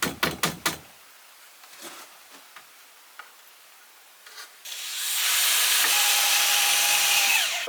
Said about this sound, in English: Although it's a bit noisy, it's an impact driver.